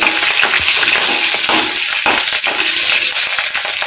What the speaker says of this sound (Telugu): ఇందులో మనం తీసుకున్న పచ్చిమిర్చి కూడా వేసేస్తున్నాం